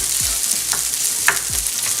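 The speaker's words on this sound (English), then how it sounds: "You just want to break it up and then just kind of stir it around to soak up that oil" Cooked rice fries in butter and oil in a hot pan for chicken fried rice, a steady soft sizzle with a few scraping stirs of a utensil, close and alone without talk.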